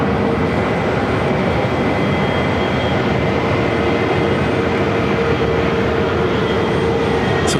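A Cessna 208B Super Cargo Master FedEx feeder plane comes in to land at Phoenix airport, giving a loud, steady engine roar that holds constant from start to finish with no voices.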